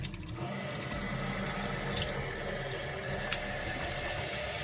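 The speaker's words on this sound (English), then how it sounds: "Rinse the ackee tin off." Tap water runs steadily into a kitchen sink while ackee tins are rinsed, giving a constant close splashing flow with a few brief clinks and no voices.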